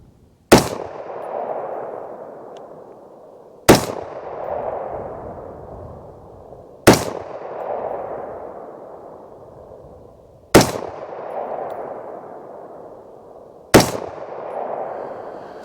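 Five sharp, loud rifle shots from a Ruger AR-556 MPR at a 25-yard range, spaced about three seconds apart, each followed by a ringing, fading echo.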